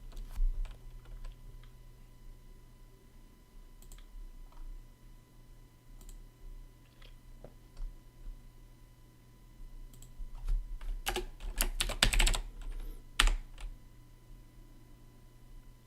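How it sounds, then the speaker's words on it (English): Keyboard typing clicks along quietly under a steady low hum, speeding up into a denser flurry of keystrokes near the end. "Talking to you and I'm typing."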